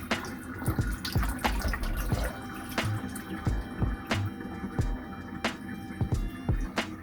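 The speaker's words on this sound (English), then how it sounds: "you rinse the salt water off and put to drain" Tap water runs and splashes over salted potato wedges being rinsed in a sink, with uneven drips and knocks as the wedges shift, fairly quiet and close.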